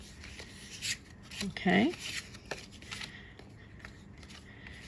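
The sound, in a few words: flipping through paper cards in a card pack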